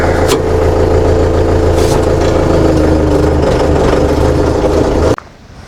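Tractor engine from the Scout 504C, Fighter 504C and 254C models rumbles steadily while driving, a loud close mid-pitched drone with some clatter, cutting off abruptly near the end.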